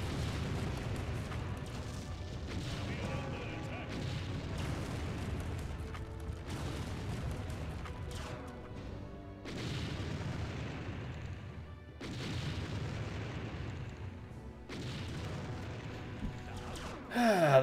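Artillery fire rumbles through a battle in the strategy game Empire Earth, dense continuous booms and blasts layered with game music, steady and loud with a sharper hit at the end.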